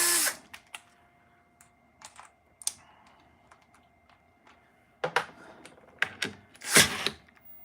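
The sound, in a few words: cordless drill undoing bolts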